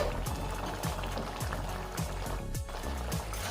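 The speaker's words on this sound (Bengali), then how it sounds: "সর্ষে বাটাটা দেওয়ার পর কিছুক্ষণ ফুটিয়ে নিতে হবে" A green tomato jhal with mustard paste stirred in bubbles and simmers in the pan. There is a steady wet bubbling with soft popping, close and even throughout, and no talking.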